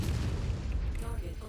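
Cannons in the MechWarrior 5 video game fire a rapid stream of muffled booms, fairly faint and continuous throughout.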